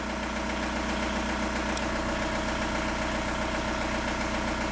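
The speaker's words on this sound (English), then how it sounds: "a definite clatter change to the tone of the engine" A Volkswagen TDI diesel engine with timing fault code P1248 idles steadily and close by, with a constant rhythmic clatter and vibration and no voices.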